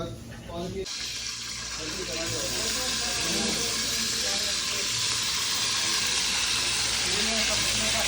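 Curry frying in a pan gives off a loud, continuous sizzling hiss that swells and holds steady, with people talking faintly underneath.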